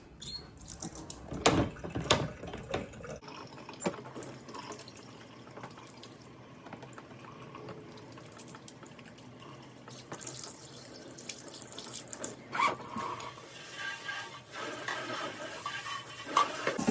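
Water runs steadily from a kitchen tap into the sink as leftover greens are rinsed out, a continuous close hiss and splash with a few clatters and knocks near the start.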